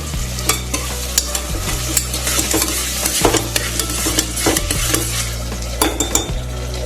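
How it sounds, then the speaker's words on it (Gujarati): Mixed vegetables and potato stir-fried in a pressure cooker, with a continuous sizzle and repeated scraping and clanking of a spatula against the cookware, close and fairly loud. "મારા વેજીટેબલ્સને એકદમ સરસ પહેલા મિક્સ કરી લઈશ"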